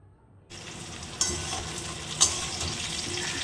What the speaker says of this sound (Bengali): পটলটা আলুটা ভেজে নিচ্ছি